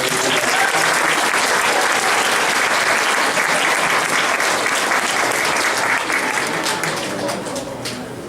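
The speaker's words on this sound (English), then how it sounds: "let's give him a nice round of applause" Sustained applause from an audience at an elementary school graduation, dense and loud throughout, easing slightly toward the end.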